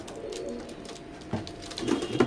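Moulting imported Teddy breeder pigeons, including Oman and Saki breeds, coo in a loft, with low, throaty calls swelling near the end over a soft background rustle.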